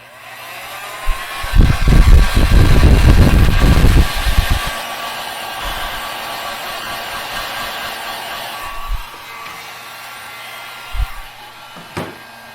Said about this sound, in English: So I'm going to start by adding some heat around the edges, and we'll start prying from there.